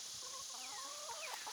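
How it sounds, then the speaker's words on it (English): A hen gives a few soft, quiet clucks and murmurs nearby outdoors, alone with no talk. "Gorgeous hen."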